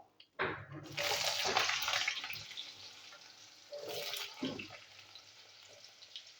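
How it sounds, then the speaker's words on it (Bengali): Potatoes hit hot oil flavoured with black cumin seeds, bursting into a loud sizzling hiss that gradually settles into a quieter crackle, with a second flare of sizzle partway through. "আলুগুলো একটু ভেজে নেবো।"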